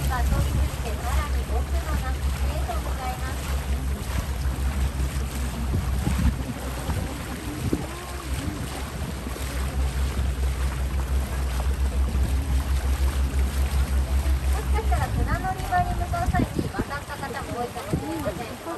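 A river cruise boat on the Oyoko River during cherry blossom season moves through the water with a steady engine rumble, water wash and wind noise, while people talk over it.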